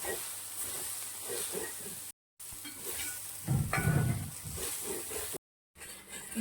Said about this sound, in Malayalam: അപ്പം ഇത് നമുക്ക് നന്നായിട്ട് ഒന്ന് മൂപ്പിച്ചെടുക്കാം